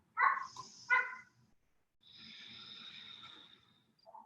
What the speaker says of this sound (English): Even if the dogs are barking